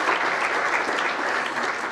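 Audience applause at a National Press Club address, a full room clapping in a dense, even wash that stays steady for about two seconds with no voices over it.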